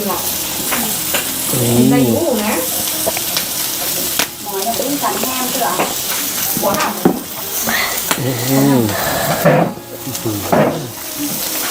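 Pork sizzles steadily on a moo kratha, a Thai tabletop grill-and-hotpot, at a mountain meal, with occasional stirring and scraping while people chat over it throughout.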